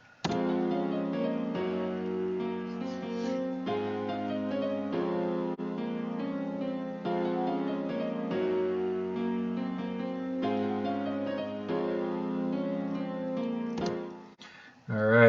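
Piano chords in an FL Studio beat play together with a repetitive top melody in a steady looping pattern, with rich sustained harmony and bass notes, fading at the end.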